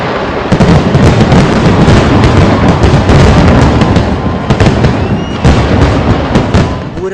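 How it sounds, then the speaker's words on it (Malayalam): Thrissur Pooram festival fireworks: loud, dense, overlapping bursts and crackles of explosions in rapid succession, with a few sharper cracks standing out toward the end. "പൂരം നാളിലെ വെടിക്കെട്ട് പ്രകൃതിയോടുള്ള ശബ്ദഹിംസയായി മാറുന്നു."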